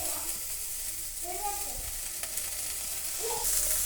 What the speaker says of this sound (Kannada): ಆಯಿಲ್ ಕಾಯ್ದಿದೆ. ಸ್ಪೈಸಸ್ ಹಾಕ್ತಾಯಿದ್ದೀನಿ.